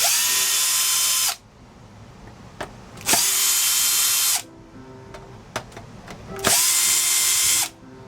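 A power driver spins out Torx screws from a CPAP machine case in three loud, sustained whirring bursts of about a second each, separated by quieter handling clicks and small knocks.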